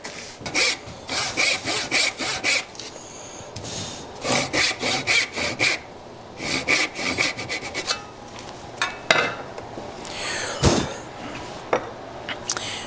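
Short rhythmic strokes of a hand saw cutting a small trough into wood for a wedged tenon, bursts of rasping back-and-forth sawing with brief pauses, close and clear with no talk.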